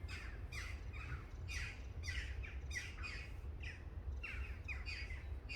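Harsh, squawking bird calls repeat in irregular bursts over a steady low rumble, with several birds chattering in a backyard garden at moderate distance.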